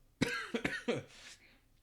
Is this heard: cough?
yes